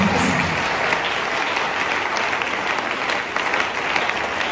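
A church congregation at a service of Église MEVJCE applauds and cheers the preacher, Pastor Gabin Lepounga. The clapping is dense, loud and continuous and fills the whole stretch.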